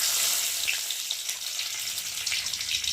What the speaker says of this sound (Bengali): এখন তেল আছে কড়াতে, তেলের মধ্যে আমি এখন দিয়ে দেবো